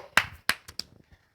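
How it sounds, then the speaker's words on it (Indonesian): A few scattered hand claps, about four, from a small group on a podcast set, quick and close, then fading to quiet. "Tepuk tangan."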